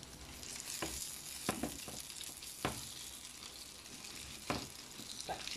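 Courgette fritters frying in hot grease give a steady broadband sizzle, broken by a few sharp scrapes and spatters as they are turned in the pan.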